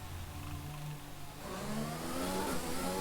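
Formula 1 car engine in the F1 2020 video game, a steady mid-pitched drone with rising harmonic whine as the car enters the pit lane, fairly close and continuous.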